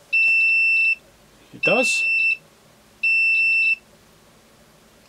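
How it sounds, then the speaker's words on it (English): A Hurner HST-S-315 electrofusion welder's beeper sounds three loud, steady electronic tones, each under a second long and evenly spaced, with a brief spoken remark between the first two. "Beeper sounds a bit sick."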